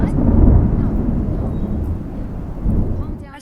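Heavy rain pours steadily beneath deep, rolling thunder that rumbles loudest near the start and keeps growling throughout, with a few softer swells toward the end; no speech.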